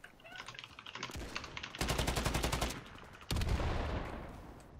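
Counter-Strike gunfire: loud, rapid volleys of automatic shots in several bursts, with a dense stretch of repeated cracks midway and another heavy burst near the end.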